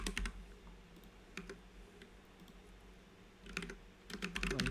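Quiet bursts of keystrokes on a computer keyboard while filling in a web form, short clusters of clicks separated by a steady low background hum.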